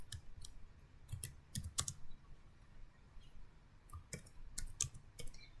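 Keys clicking on a computer keyboard while commands are entered for router configuration, in short scattered bursts of light taps, quiet and close with no talking.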